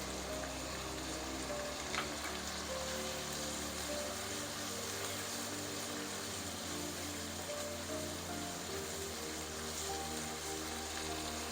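Crushed red chili hits hot oil in a pan for dhaba-style beef keema karahi, giving a soft, steady sizzle and crackle that runs evenly throughout with no talking.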